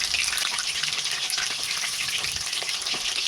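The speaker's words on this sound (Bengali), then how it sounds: "আমরা সুন্দরভাবে উল্টিয়ে পাল্টিয়ে ভালোভাবে ভাজা করে নেব" Chicken for chili chicken frying in a pan as it is turned and stirred, producing a continuous crackling sizzle with a few soft scraping stirs, close by and without speech.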